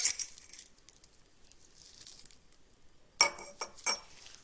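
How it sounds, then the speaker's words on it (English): Soft rustling and dripping of water, then a few sharp clinks of metal strips against a glass graduated cylinder, one louder tap followed by two lighter ones near the end. "So we're going to remove our metal strips from the graduated cylinder."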